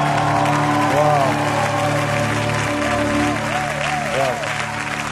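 A church congregation applauds and cheers during a worship service, with sustained loud clapping from a full room and raised voices whooping and calling over it.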